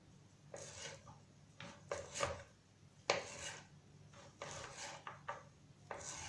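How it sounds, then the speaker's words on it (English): Knife slicing vegetables for a homemade vegetable pizza on a cutting board, a series of crisp, irregular cuts and scrapes at close range with short pauses between strokes, no talking. "Then I have to slice it as well."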